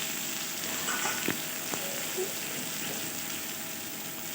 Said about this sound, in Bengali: এবার কাঁচা লঙ্কাটা দিয়ে দিলাম এবার একটু ভালোভাবে একটু ভেজে নিতে হবে